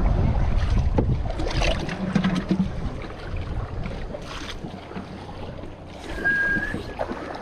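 A small boat on the Amazon River, out fishing for piranha and taking on water, with steady wind rushing and water washing around it at close range, no voices.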